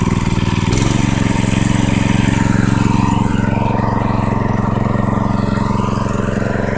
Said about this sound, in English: Alright, let's let it throttle it up now.